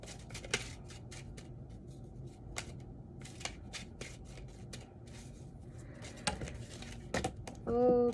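A deck of tarot-style reading cards shuffled close up, giving quiet, irregular riffles and flicks with a few sharper snaps, and a brief voice near the end.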